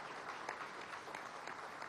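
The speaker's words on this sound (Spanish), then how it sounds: "Bueno, un aplauso." Brisk applause from a gathering at a meeting in the Caracas Metro workshop yard, a fairly distant, even patter of many hands clapping, steady and moderately faint.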